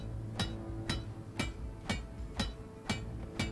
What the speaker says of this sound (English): I'm just giving it the old hammer